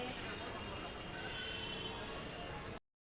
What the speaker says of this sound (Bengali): এখন যে ট্রেন আসবে।